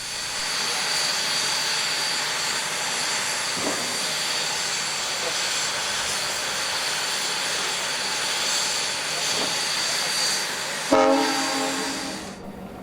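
Locomotive 5623 hauls a passenger consist westbound out of Brightside Yard on the Niles Canyon Railway, a steady moderate rumble rolling on before a brief horn-like tone sounds near the end.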